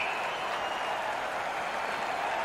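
Crowd noise from an NHL 21 ice hockey video game, Pittsburgh against Philadelphia, rises as a steady, dense wash of cheering and applause with no break.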